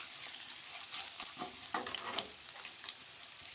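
Finely chopped onions fry in a pan for an egg and potato fry, a steady crackling sizzle with soft stirring scrapes, close and moderately loud, alone without talk.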